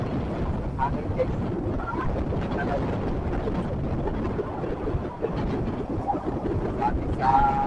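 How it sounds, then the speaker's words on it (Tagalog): Strong wind at sea buffeting a boat, a continuous low roaring rush with gusty swells, the hull and water noise rumbling beneath and brief voices heard faintly over it. "Hangin guys."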